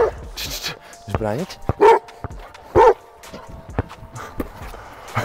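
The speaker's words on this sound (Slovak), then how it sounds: "Toto je pes obranca" A guard dog barking twice, two short sharp barks close by, amid lively talk and a few whimpers.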